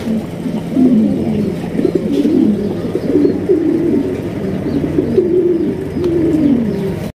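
A pair of jet-black Spanish pigeons coos steadily and continuously at close range, with low rolling calls overlapping throughout and no talking.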